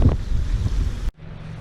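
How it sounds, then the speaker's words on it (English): Loud, rumbling wind over open water in Iowa buffeting the microphone, which cuts off abruptly near the end and leaves a quieter background. "it's nice and windy"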